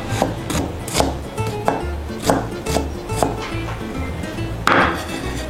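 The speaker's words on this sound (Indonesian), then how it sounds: "Kita mau dice bawang bombaynya." A knife dices about 150 grams of onion on a cutting board, giving close, sharp chops in an uneven rhythm of roughly a dozen strikes with brief scraping between them.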